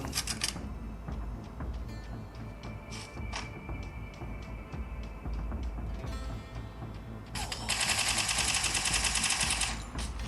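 Gunfire in a mobile shooting game played on a POCO M8 phone: rapid rattling bursts of automatic fire with sharp single shots, and a dense, loud stretch of continuous shooting near the end.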